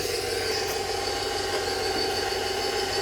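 A stand mixer runs steadily close by, kneading soft, still-wet cinnamon roll dough: a continuous loud motor hum with a faint rattle throughout, no voices.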